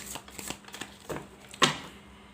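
Tarot cards are drawn and shuffled in a quiet room: a few soft, papery flicks and slides, with a sharper card snap near the end, close and faint.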